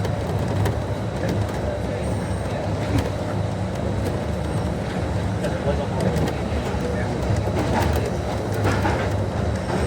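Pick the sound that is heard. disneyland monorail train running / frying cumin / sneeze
disneyland monorail train running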